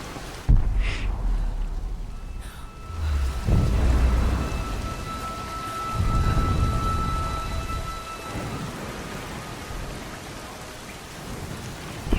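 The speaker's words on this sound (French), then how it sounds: "pendant tout le long du jeu, pratiquement il va pleuvoir." Steady rain with rolling thunder rumbles in a Tomb Raider video game, a continuous downpour hiss with a few deep booms, loud and enveloping with no talk.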